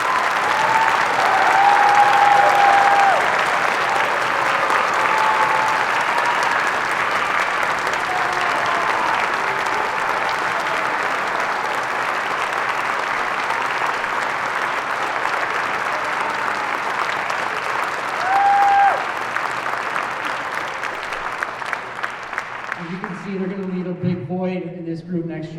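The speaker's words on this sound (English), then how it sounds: "Let's give a big round of applause for our seniors." An audience at a high school spring band concert applauds the graduating band seniors: steady, full applause that runs without a break, then thins as a voice begins speaking near the end.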